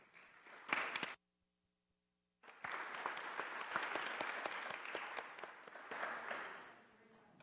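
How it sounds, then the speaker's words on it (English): Applause at a Lynn Haven city commission meeting, a brief burst of clapping, a short silence, then a longer round of steady clapping from a modest crowd that slowly tapers off. "let us give you a round of applause"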